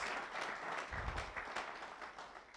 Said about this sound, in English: Clap your hands and give the Lord some praise today.